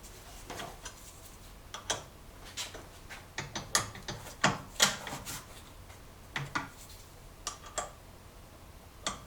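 Festool Kapex KSC 60 miter saw having its blade changed: a series of faint, quick ratcheting clicks and ticks, irregularly spaced, with small metallic rattles between them.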